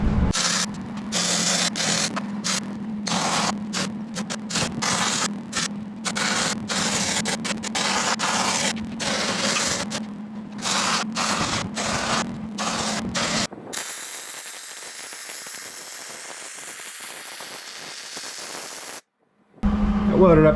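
Welding on a junk log splitter being converted into an excavator attachment, tacking the pins: a steady crackling buzz runs loud for about thirteen seconds with brief breaks, then drops to a quieter hiss before stopping.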